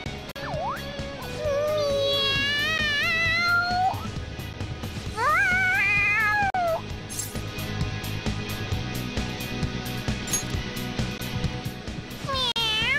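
A cat meows repeatedly in the video game Persona 5, with rising and falling drawn-out cries and caterwauling over a steady game music bed.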